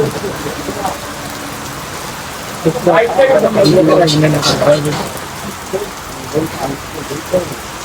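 Steady rain pours down during a tour of North Bengal, a constant hiss running throughout, with voices talking over it in the middle stretch.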